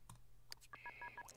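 Electronic touch-tone dialing beeps from a phone call in The Sims 2, a quick string of short, clear tones in an even rhythm, close and distinct over a faint background hum.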